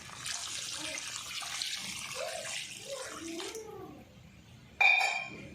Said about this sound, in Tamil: நம்ம குழம்புக்கு தேவையான அளவுக்கு தண்ணி சேர்த்துக்கலாம்